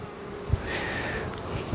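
Honeybees on a hive frame of capped honey hum in a dense, close swarm, a steady buzzing drone with a few brief bumps.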